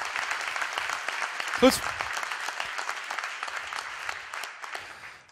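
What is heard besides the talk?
audience applause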